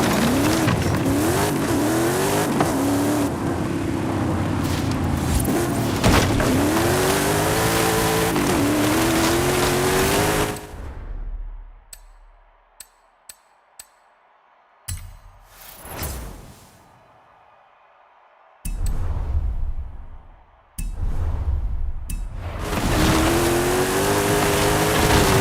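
A Volkswagen Golf GTI races in Forza Horizon 5, its engine roaring loud and close with rising and falling revs and tire squeal, then dropping out to near silence broken by short bursts before the engine returns.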